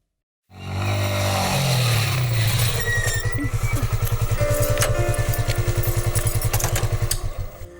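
A motorcycle engine bursts to life and revs hard, then settles into a loud, fast, even thumping as the bike pulls away, close by and with no talk over it.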